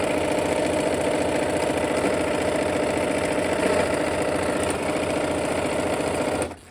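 A sewing machine stitching fabric runs in a steady, fast, close whir for over six seconds without pause, then cuts off abruptly at the end.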